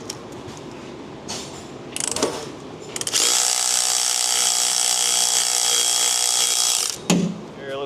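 A ratcheting 18 mm socket wrench working on the differential cover bolts of a Ford Explorer ST, a few scattered clicks and clatters, then a long, loud, steady mechanical whirring burst that stops abruptly, followed by a brief clunk, all close up.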